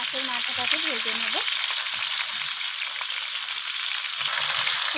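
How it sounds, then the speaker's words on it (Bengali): A katla fish head sizzles loudly in hot mustard oil, producing a dense, constant frying hiss close by, with a brief tonal clatter at the start and faint background sounds. "এখন আমি এর মধ্যে দিয়ে দিলাম মাছের মাথাটা। তো এটাকে আমি ভালোভাবে লালচে করে মাছের মাথাটাকে ভেজে নেব।"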